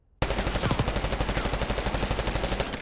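An automatic rifle in Black Ops 6 dumps a full magazine in one unbroken burst: rapid, evenly spaced loud shots for close to three seconds, starting abruptly after brief silence.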